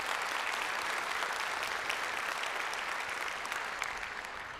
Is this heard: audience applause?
yes